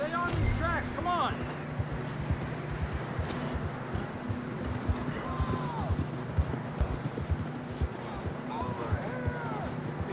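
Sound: horses galloping in video game Red Dead Redemption II

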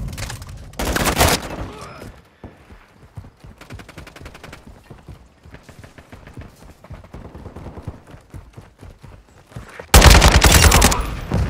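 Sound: gunfire in the video game Modern Warfare 2

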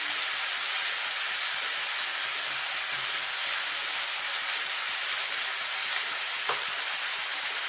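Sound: new potatoes being sautéed in a pan

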